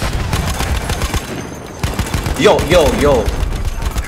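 Battlefield 1 gunfire rattles as a dense, continuous spray of shots under game noise, with a player's voice briefly cutting in partway through.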